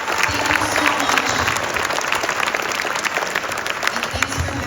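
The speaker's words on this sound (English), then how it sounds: "I want to make sure we all give a big round of applause for him putting this all together" A dinner crowd at a Bigfoot conference VIP event claps in a big, sustained round of applause, with cheers and voices mixed into the steady clapping.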